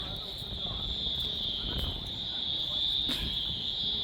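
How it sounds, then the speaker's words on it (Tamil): Frogs call in a constant high trilling chorus after rain, with faint background noise underneath. "தவளை சவுண்டை பாருங்கள் மழை பேஞ்சிருந்து தவளைக்கு வந்து சவுண்டு"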